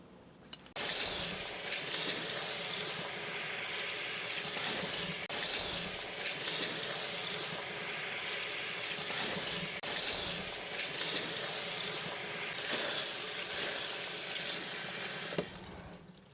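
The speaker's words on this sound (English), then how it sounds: "Now I'm going to clean the noodle under cold running water." Tap water runs steadily into a sink, with wet splashing and faint handling of noodles under the stream, close and continuous.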